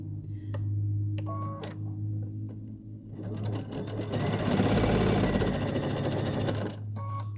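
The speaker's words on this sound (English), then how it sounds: "we're going to sew a 1/4 inch seam" A sewing machine stitches a quarter-inch seam while piecing a one-block-wonder quilt. A steady hum and light handling clicks build into a fast, continuous mechanical whir lasting about four seconds, loud and close, then it drops back to the hum.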